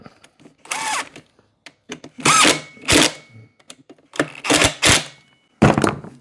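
Short bursts from an impact wrench tightening bolts on a Husqvarna 150 BT backpack blower during repair, several quick buzzing rattles separated by pauses, close and fairly loud.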